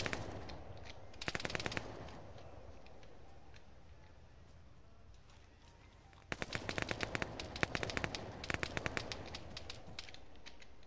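Automatic gunfire in the Arma 3 video game during a 40mm grenade barrage: short rapid bursts of shots, then a long sustained stretch of fast firing over a low rumbling background, distant-sounding and moderately loud.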